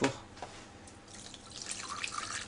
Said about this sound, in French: le lait qui a tiédi, je vais le filtrer à travers une passoire